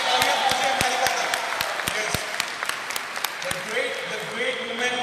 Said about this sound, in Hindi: एक बार जोरदार तालियां होनी चाहिए उनके लिए